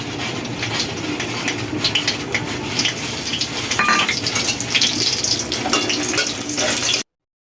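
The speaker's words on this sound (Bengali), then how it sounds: "তেল দিয়ে দিলাম, শুকনো লঙ্কা ফোড়ন দিয়ে দিই।" Dried red chilies tempering in hot oil for a Bengali watermelon-rind dish, giving a steady close sizzle and crackle with faint kitchen clatter and no voices throughout.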